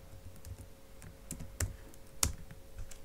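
Close, quiet typing on a computer keyboard while coding a Bootstrap web page, an irregular run of soft key clicks with two sharper, louder taps standing out.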